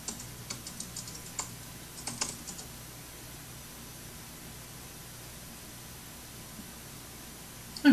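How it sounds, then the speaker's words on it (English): Keyboard typing in a quiet room, a few brief clusters of soft clicks in the first couple of seconds, then near silence with low steady background hiss. "I'm sure he's typing."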